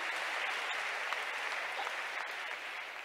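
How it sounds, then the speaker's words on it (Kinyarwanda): A church congregation applauds during a Sunday preaching service, a steady, continuous wash of clapping that holds evenly throughout at moderate distance. "Acclamons pour lui."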